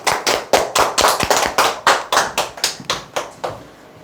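Listeners at a sales seminar clap together in a loud, close, fairly regular rhythm of about fifteen sharp beats, slowing slightly and fading out at the end.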